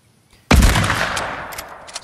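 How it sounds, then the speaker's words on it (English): A single loud sniper rifle shot in the Fortnite video game cracks suddenly and close, followed by a long booming decay with faint clicks near the end. "Still working on hitting those headshots with snipers here."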